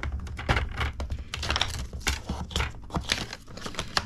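Scissors slice through paper in a close run of crisp snips and rustles while a paper storage box is being made.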